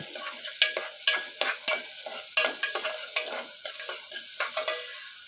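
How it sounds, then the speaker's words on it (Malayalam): Sliced onions frying over a low flame for Kerala-style chickpea curry, with a quiet sizzle and a steady rhythm of spatula scrapes and stirs against the pan. "സവാള നല്ലവണ്ണം മൂപ്പിച്ചെടുക്കണം ഫ്ലെയിം കുറച്ച് വെച്ച് വേണം മൂപ്പിക്കാൻ"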